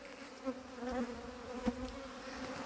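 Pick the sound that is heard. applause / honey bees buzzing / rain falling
honey bees buzzing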